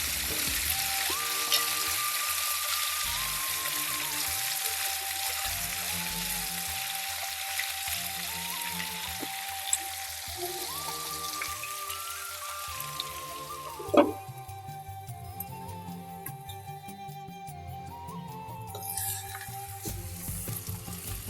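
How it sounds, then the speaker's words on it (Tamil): Ivy gourd sautéing in oil in a pan for a kovakkai poriyal, a steady low sizzle and crackle running throughout under a soft background melody, with a stirring clatter around the middle. "எண்ணெயில் நல்லா வதக்கி விட்டுக்கணும்."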